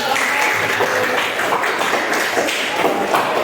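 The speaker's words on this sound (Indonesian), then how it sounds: "Tepuk tangan dulu Pak." Classroom applause after a group presentation, a dense, continuous wash of many people clapping in a room, steady and fairly loud for several seconds.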